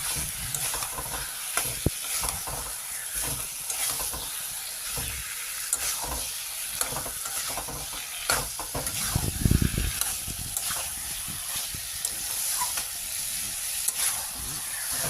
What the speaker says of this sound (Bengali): সব দিয়ে দিয়েছি, এখন কষাবো